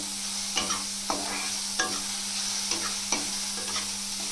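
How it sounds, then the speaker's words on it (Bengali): Vegetables fry lightly in a pan with a soft, steady sizzle, broken by regular spoon scrapes and taps every half second or so. "সবজিগুলো হালকা একটু ফ্রাই করবো"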